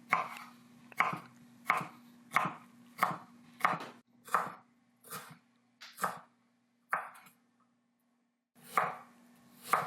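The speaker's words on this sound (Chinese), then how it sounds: "接着是我们的彩椒。 一样，我们把它切成丁" A knife dices bell pepper on a cutting board with crisp, evenly spaced chops at close range, then a short pause before two more cuts.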